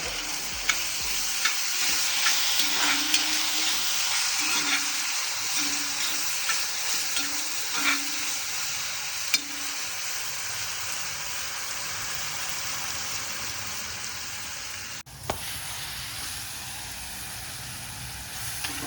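Onions sautéing in a pan with a cloth added, sizzling steadily the whole time while a utensil scrapes and stirs in a loose rhythm, close and fairly loud, with no one speaking.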